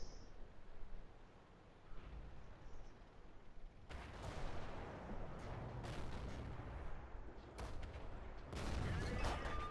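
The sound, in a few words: tank cannon shot hitting turret, World of Tanks video game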